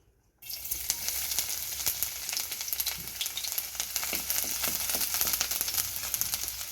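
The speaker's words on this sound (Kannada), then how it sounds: "ಎಣ್ಣೆ ಹಾಕ್ಕೊಳ್ತಾ ಇದ್ದೀನಿ. ಬೆಳ್ಳುಳ್ಳಿ ಹಾಕ್ಕೊಳ್ತಾ ಇದ್ದೀನಿ." Garlic hits hot oil in a pan for gobi manchurian and bursts into a loud, steady crackling sizzle after a brief silence. The close, continuous frying carries on throughout with no talking.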